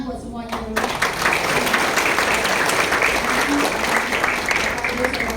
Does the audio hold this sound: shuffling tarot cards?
no